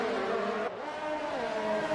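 Several race cars in an F2 racing video game at Abu Dhabi, a steady loud engine drone with shifting pitch as cars battle closely, continuous and unbroken with no voices.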